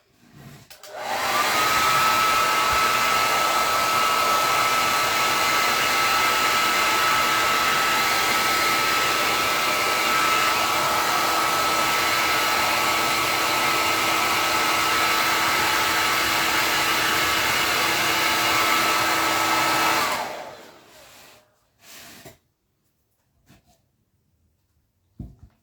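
Hair dryer blowing on a pine candle holder, a loud steady whooshing roar with a faint whine that runs unbroken for about twenty seconds before switching off, followed by a few soft handling bumps.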